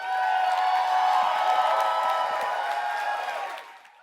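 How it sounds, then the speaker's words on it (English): Live storytelling-event audience cheering and applauding for a performer, a broad sustained crowd roar with whoops that stays full before fading near the end. "how about a big round of applause now for Tim Lopez?"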